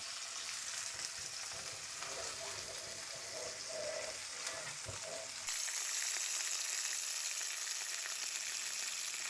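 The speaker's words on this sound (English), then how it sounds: "You can see it's starting to smoke, and I'm gonna throw that steak right on there." A steak searing in a hot, smoking pan sizzles steadily and loudly, with fat spattering throughout, then the sizzle turns brighter and harsher partway through; no one speaks.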